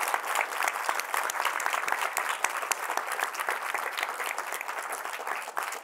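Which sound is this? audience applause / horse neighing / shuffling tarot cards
audience applause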